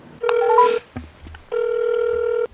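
A telephone rings twice, each a loud steady electronic tone lasting close to a second, with a short pause between them, heard just before a recorded phone interview.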